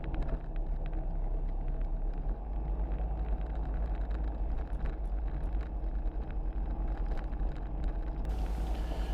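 Calidus gyroplane engine droning steadily while the aircraft taxis, a continuous buzzing rumble heard from inside with wind buffeting on the microphone, no pauses throughout.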